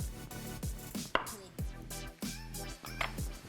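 A knife slicing through a peeled, oven-baked hard-boiled egg on a cutting board, a series of soft, close, rhythmic taps and cuts about every half second, fairly quiet.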